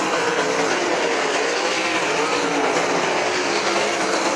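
Race cars run a dirt heat race at Butler Motor Speedway, a loud, continuous engine roar filling the air with no letup and no voices.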